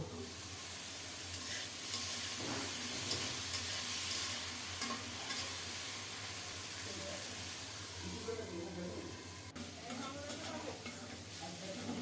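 Potatoes fry in hot oil in a covered pan, giving a steady, close sizzle with occasional stirring scrapes throughout.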